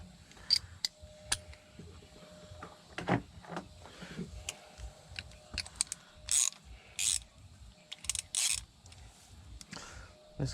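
Ratchet and hand tools click and clatter in quick irregular bursts while ignition coils come off a Volvo 2.4 non-turbo petrol engine with a misfire, sounding close but fairly quiet, separated by short gaps.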